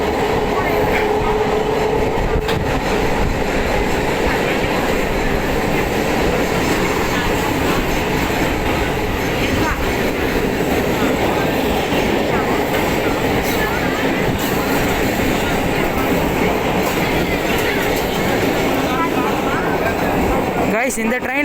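Chennai suburban train running on rails, a loud, steady rumble and rattle heard from inside the carriage throughout, with faint wheel squeal in places.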